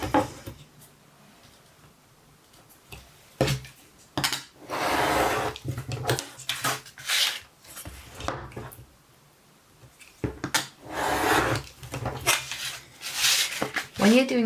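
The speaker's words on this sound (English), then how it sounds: "for this I'm going to use my metal ruler" A metal ruler handled while cutting card with a hobby knife: intermittent clinks, taps and scraping contacts, plus rustling of paper, mixed in among stretches of a person talking.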